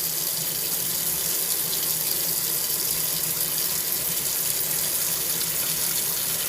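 A sponge rinsed under a running kitchen tap makes a steady, loud hiss of flowing water into a sink, continuous and unbroken with no voices.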